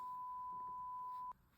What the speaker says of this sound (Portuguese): bota o bip aí, né?